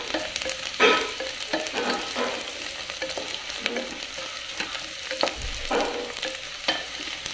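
Onions frying in oil with garam masala for an instant chicken pulao, a steady sizzle broken by repeated stirring scrapes and a few louder clatters, close and continuous with no talking.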